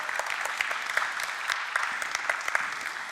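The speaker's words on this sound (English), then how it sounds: "I think we just need to give you a round of applause real quick for being here" Scattered applause from a seated audience at a talk, individual claps standing out sharply within a moderate, fairly quiet patter that holds steady for a few seconds.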